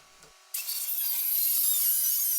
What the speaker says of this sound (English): Using the panel clamp as a saw guide, I cut lines in to where I had marked out the size of the